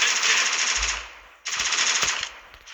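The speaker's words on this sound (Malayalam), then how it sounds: "എവിടുന്നൊക്കെ ഇവർ വെടിക്കുന്നു?" Rapid automatic gunfire from the Free Fire shooting game rattles in two loud, close bursts, with a deep thump between them and scattered single shots in the second burst.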